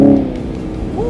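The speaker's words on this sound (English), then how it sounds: "now I'm braking, and it's shifting down for me all by itself, and the shifts are pretty aggressive" A 2020 Chevy Camaro 2SS V8 blips and burbles as it downshifts under braking, a short low engine rumble rising in quick rev-matched bursts from inside the car.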